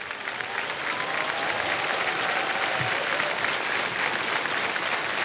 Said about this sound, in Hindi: अरे ताली बज गया है अभी